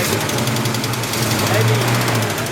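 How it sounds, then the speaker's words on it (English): A 1968 Pontiac GTO 6.5-liter V8 with Flowmaster exhaust idles steadily up close, a faint rapid ticking from a lifter or valve spring riding over the low rumble after the car has sat a long time. "So you can kind of hear that ticking noise. I think it's like a lifter or a valve spring"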